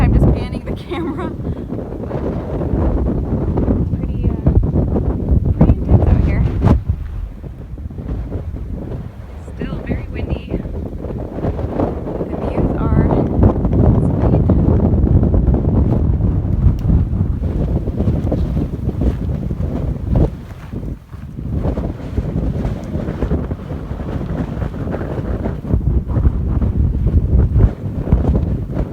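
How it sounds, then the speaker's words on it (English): Strong howling wind buffets the microphone continuously on a mountain trail near Julian, a loud roaring rumble that rises and falls, with occasional faint speech buried underneath. "The wind is still really howling, so I'm having a hard time just panning the camera."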